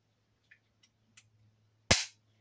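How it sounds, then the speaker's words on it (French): A utility knife blade snapped off with one sharp, close crack near the end, preceded by a few faint small clicks of the blade being slid out, with a low steady hum underneath. "je vais couper ma lame du cutter, je vais la changer"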